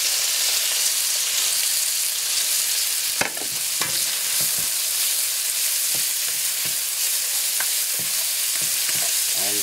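Curry leaves fry in hot oil in a pan, giving a steady bright sizzle with scattered pops and a few sharp clicks of stirring, heard alone and close.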